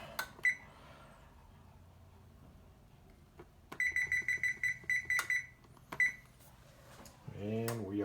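A kitchen timer is set during the cooking of rabbit in a cream and mustard sauce. It gives a quick run of about ten short, even beeps, with a few lone beeps before and after in a quiet kitchen.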